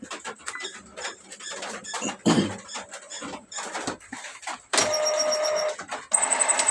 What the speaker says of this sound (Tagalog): So clean muna tayo ng printhead.